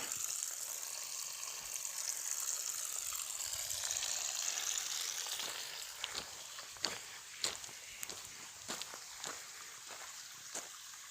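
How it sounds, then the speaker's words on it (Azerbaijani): Water from a roadside spring on the road through Ağdərə district flows in a steady near rush, with sharp splashing and tapping bursts in the latter half, with no talk. "Burada yolumuzun üstündə bir bulaq var."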